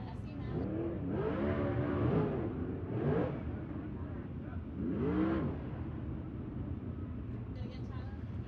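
Race cars roll around a dirt track under caution at a USCS event at Riverside, with engines revving in low swells that rise and fade, heard under continuous commentary.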